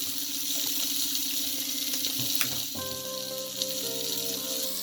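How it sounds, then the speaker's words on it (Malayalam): Coconut oil sizzling in a hot pan for tempering a mackerel curry, a close, steady fizz and crackle with a few sharp pops midway, continuing evenly throughout. "അപ്പോൾ ചട്ടി ചൂടായിട്ടുണ്ട്. നമ്മൾ അതിലേക്ക് വെളിച്ചെണ്ണ ഒഴിച്ചു."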